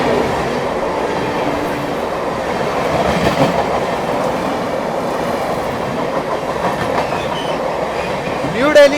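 The Mahabodhi Express, running New Delhi to Gaya, passes close by as a steady rumble with rhythmic wheel clatter on the rails, a rising squeal of wheels at the very end.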